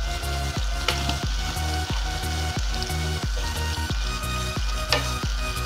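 Papaya and field bean curry stirred in a pan, with a steady sizzle under regular spoon scrapes about twice a second, close and fairly loud, no talking.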